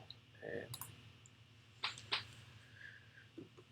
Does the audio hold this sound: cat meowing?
no